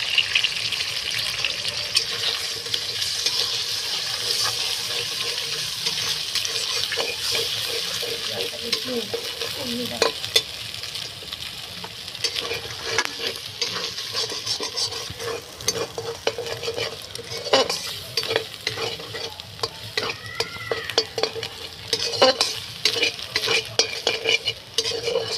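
Eggs and vegetables fry for pasta in a pan, a continuous sizzle broken by frequent scraping stirs and occasional utensil clinks over about twenty-five seconds.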